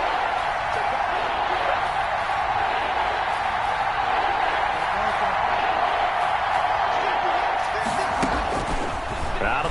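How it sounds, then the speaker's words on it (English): Dense stadium crowd roar in a Madden football video game, a loud sustained wash of cheering with occasional thumps, commentary voices running over it. "The crowd getting into it as we come up on a big third down."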